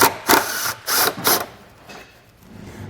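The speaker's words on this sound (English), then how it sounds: "we're going to take a 10mm socket and we're going to remove these bolts that run across this panel" Several short, loud bursts of a power tool driving a 10mm socket as it removes bolts from a panel on a 2014 BMW X3, followed by quieter mechanical noise.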